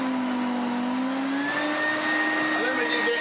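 AEG Compact Electronic 406 vacuum cleaner after restoration, running up to speed with a loud steady motor whine whose pitch climbs and smooths out, close and continuous.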